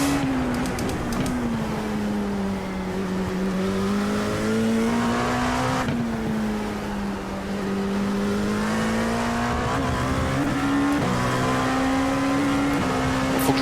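Racing car engine in a sim racing video game, a continuous high-pitched drone whose pitch climbs and dips as the throttle is pumped, with brief shifts and no talk, loud and unbroken for the whole stretch.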